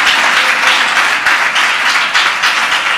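A church congregation claps in unison, loud and continuous, with no other sound breaking through.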